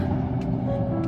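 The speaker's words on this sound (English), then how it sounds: "Pretty loud out here with the cars speeding through the street" Cars speed past on the Hoover Dam bridge with a continuous close traffic rumble and a low engine drone that hold steady throughout the short moment.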